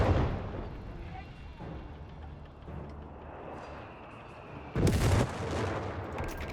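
Machine gun and G43 rifle fire crackle in a Company of Heroes 3 battle, with dense rumbling gunfire and a louder burst near the end, under a commentator's voice.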